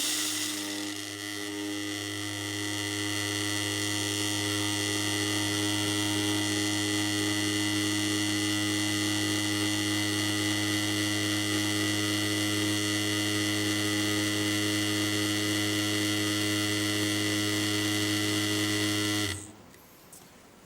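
The Smart Dentin Grinder runs as a steady, loud electric whine with strong humming tones while grinding dentin, then cuts off abruptly near the end.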